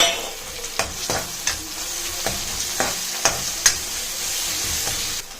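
Small onions and tomato fry in a pan with a steady sizzle, broken by a series of sharp scraping stirs from a spatula at irregular intervals, close up and without talk.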